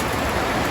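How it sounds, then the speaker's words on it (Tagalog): Heavy rain falling outdoors around a pigeon loft and aviary, a dense, even hiss of broadband noise that stays loud and unbroken throughout the short stretch, with no voices. "Lakas ng ulan."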